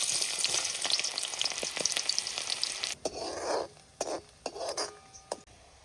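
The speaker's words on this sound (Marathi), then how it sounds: "तेल गरम झालं तर कांदा टाकतो." Onion dropped into hot oil in a kadhai over a wood-fired village stove for a crab curry, a loud crackling sizzle that then thins out amid clinks and stirring scrapes.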